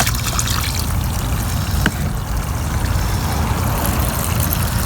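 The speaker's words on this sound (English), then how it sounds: "Let's go ahead and add some water. Alright, so we're just using the garden hose since we're outside." Water from a garden hose pours steadily outdoors into a compact portable countertop washing machine, a continuous loud rushing and splashing flow with no voices.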